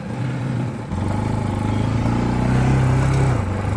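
Motorcycle ridden slowly through a U-turn by a beginner, its engine a close, steady buzz that firms up and rises slightly as the bike moves off.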